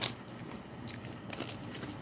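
Santa Fe Adobo mixed nut crunch being chewed close up, a run of crisp, crackly bites and grinding crunches at a steady pace with no talking.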